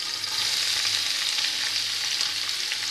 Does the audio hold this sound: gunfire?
no